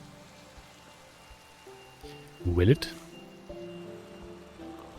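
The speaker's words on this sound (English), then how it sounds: "That should also get rid of the rain." Steady rain falls in the Minecraft video game, a soft continuous patter behind a voice talking briefly.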